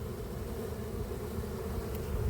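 Honey bees flying up after being knocked out of a hive box onto the floor during work at an apiary: a dense, steady buzzing swarm hum, continuous and fairly close, with no talking.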